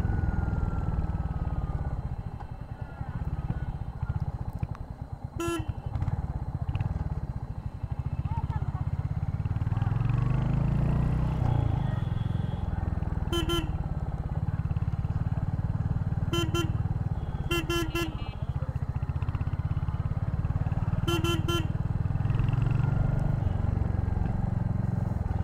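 Royal Enfield Hunter 350 motorcycle riding on a bumpy road, a steady close engine drone and road rumble running throughout with several short horn beeps from traffic, someone talking over it.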